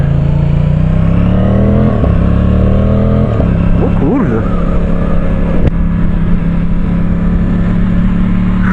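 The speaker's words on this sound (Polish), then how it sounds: "ten silnik to niby jest połówka tego z V4" An Aprilia Tuono 660 Factory motorcycle's parallel-twin engine idles loudly and revs up and down in a couple of bursts, close by, with a brief voice partway through.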